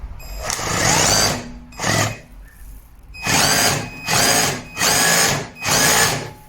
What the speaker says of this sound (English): this is hammer mode